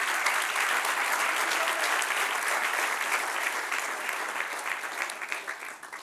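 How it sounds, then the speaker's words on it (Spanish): A church congregation applauding during a sermon, a sustained wash of many hands clapping throughout, gradually thinning toward the end. "Dale un aplauso al que reina."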